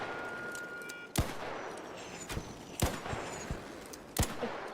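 Video game gunfire: four or five sharp, isolated shots crack out at irregular intervals over a low, quiet background, fairly faint overall.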